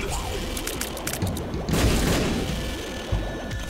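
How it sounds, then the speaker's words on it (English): A bomb blows up in The Binding of Isaac: a single heavy, crashing boom rises out of busy game sounds partway through, then a smaller thump follows later. "We're going to blow these up in hopes of getting a Spirit Heart"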